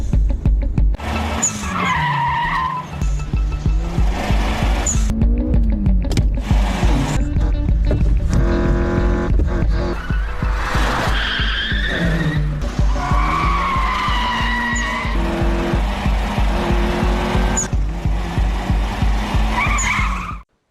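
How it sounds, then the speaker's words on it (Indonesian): Racing cars skid and scream through a mountain race scene in an anime, with a Toyota AE86 among them, loud tire squeals and revving engines rising and falling over a pulsing music track. "dan balapan pun terjadi."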